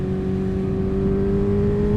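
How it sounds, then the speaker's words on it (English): Exhaust of a 2023 Honda CBR 650R motorcycle accelerating on the road, a loud, steady, droning engine note heard close throughout, with no talk over it. "That sound of that exhaust, these 650s sound mint, mate."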